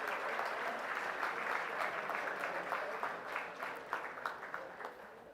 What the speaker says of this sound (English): May I request all of you to please give a huge round of applause for all the awardees today.